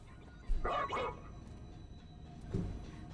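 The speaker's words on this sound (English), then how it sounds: "Max says an awful lot with 2 barks." Two dog barks from a video game character, the first a quick double yip and the second shorter and softer, both close and clear over a faint ambient game background with no speech.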